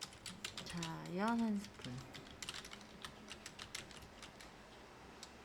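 Computer keyboard keys clicking in a quick, irregular run while text is typed, with a short burst of music or voice early on and soft clacks continuing alone afterward.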